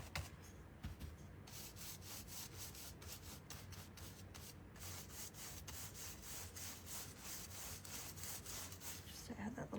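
Hand sanding across a wooden garden fence board to distress it, a continuous rhythmic rasping scrub with quick back-and-forth strokes, close and fairly quiet throughout.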